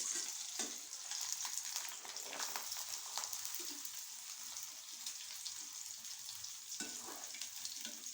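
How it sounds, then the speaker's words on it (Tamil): Sago (javvarisi) fries in hot oil, giving a constant, soft, crackling sizzle with occasional louder pops and stirring sounds throughout. "இப்படி இந்த கண்ணாப்பையை வச்சு இப்படி அமுக்குங்க. அப்போ தான் அது எல்லா பக்கமும் எண்ணெய் பட்டு பொரிஞ்சு வரும் ஜவ்வரிசி"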